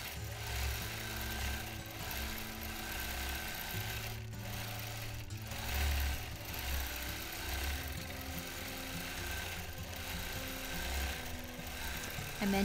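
A sewing machine does freehand quilting over bulky seam allowances, running in a rapid, steady mechanical stitching rhythm close by, with brief pauses and changes in speed.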